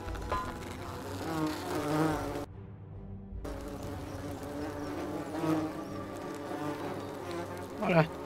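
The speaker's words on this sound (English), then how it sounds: "you're stuck in there with a hornet's nest" Hornets swarm and buzz around a hornet's nest in The Forgotten City, a steady close insect drone that persists throughout, with a brief break partway and a few sharper sounds near the end.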